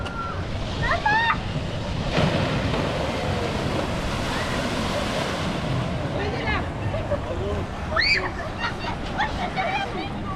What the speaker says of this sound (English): Pretty big splash at the end there.